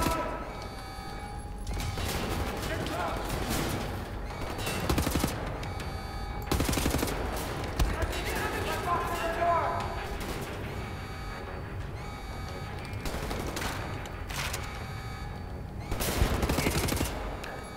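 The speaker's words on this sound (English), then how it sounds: "Are you shooting at me from where?" Enemies fire guns in Wolfenstein: The New Order, with repeated close bursts of automatic fire and single shots that break out again and again across the whole stretch.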